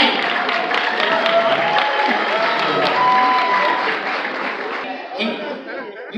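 An audience at a teachers union gathering at the New York Hilton claps and cheers for a staff member being introduced, producing a broad, continuous wash of applause that holds steady and then thins slightly near the end.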